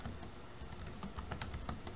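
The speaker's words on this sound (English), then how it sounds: "I'm gonna type in blue gradient" Computer keyboard keys tapped in a quick, uneven burst while a text prompt is typed, close and fairly quiet, with a soft background hum.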